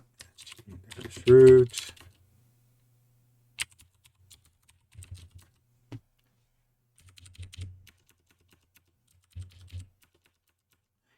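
Computer keyboard typing inside a VM setup, a burst of quick keystrokes near the start followed by scattered, sparser taps, with a brief spoken word in between, close and fairly quiet.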